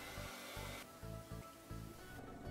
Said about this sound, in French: De nouveau, un petit coup au sèche-cheveux.